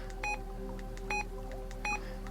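A Retevis RA86 GMRS mobile radio gives three short, clear electronic beeps, evenly spaced under a second apart, as its menu button is pressed repeatedly over a faint steady hum.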